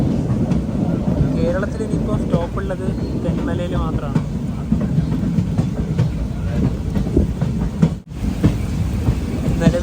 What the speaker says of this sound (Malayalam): ട്രെയിൻ ഇപ്പോൾ എടമൺ റെയിൽവേ സ്റ്റേഷൻ സ്കിപ്പ് ചെയ്യുകയാണ്.